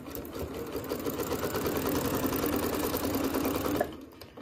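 A sewing machine runs steadily for about four seconds, stitching and back stitching a quarter-inch seam on a disappearing nine-patch quilt block, close and alone, then stopping abruptly.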